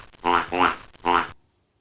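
A duckling gives three short, nasal, buzzy calls up close, the first two in quick succession and the third after a brief pause, with nothing else heard.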